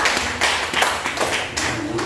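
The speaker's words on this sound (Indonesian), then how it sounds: "tepuk tangan untuk kelompok 2" Classroom applause for a student discussion group, a busy, close burst of many hands clapping at once, fairly loud and sustained throughout.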